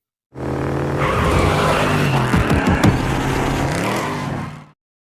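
A car drives fast with a steady engine roar that revs and surges through the middle, with sharp squeal-like bursts around the three-second mark. The car is heard alone, close and loud, from a movie driving-practice scene.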